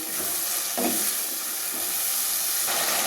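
Spice paste for Kabuli chana with mutton fat sautés in a pan, giving a steady broadband sizzle with a few soft scraping stirs, close and continuous with no voices.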